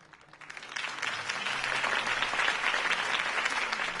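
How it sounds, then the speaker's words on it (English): A crowd in the video game Batman: The Telltale Series breaks into applause at a political campaign event, swelling quickly from a few claps to a steady, full round of clapping that holds to the end. "could have heard that applause"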